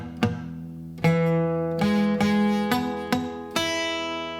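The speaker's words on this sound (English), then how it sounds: "listening for blocked, muted, or buzzing strings." A guitar strummed six times at an uneven pace, each chord ringing briefly. Some notes sound dull, muted or buzzy instead of clear.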